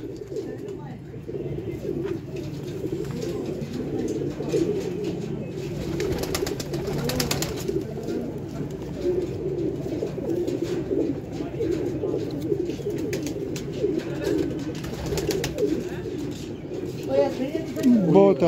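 Pigeons coo in a soft, continuous murmur from a nearby flock, low and steady under someone speaking throughout.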